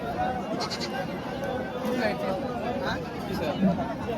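Goats bleat several times amid a busy crowd of chattering voices at a goat market in Parbhani, the calls mixed into steady market babble.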